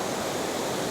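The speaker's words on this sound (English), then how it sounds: "mini waterfall leading you up to the big waterfall" A small cascade of water spills steadily over rocks toward a larger waterfall in the wild, a constant close rushing hiss with no voices.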